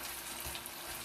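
Potatoes fry on a hot cooking surface in a brief, constant hiss of sizzling, close and fairly soft, with no distinct stirring strokes standing out.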